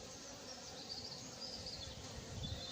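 A hornet hovers at a beehive hunting bees, giving a steady faint insect buzz with swarming drone layered over it throughout.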